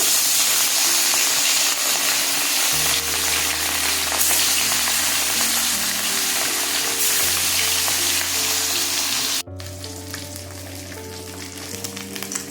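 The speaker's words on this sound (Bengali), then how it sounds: "সর্ষের তেল দিয়ে দিলাম মাছগুলো ভেজে নেব মাছ ছেড়ে দিচ্ছি" Pieces of katla fish frying in hot mustard oil in a pan, a loud, steady close sizzle and crackle that runs on continuously with a brief cut, background music underneath.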